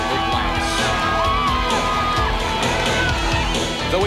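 Spectators cheer and shout along the final mile of the 1993 Ironman Triathlon World Championship as the leader approaches the finish. A continuous, lively roar of whoops and yells fills the scene, with a voice talking over it.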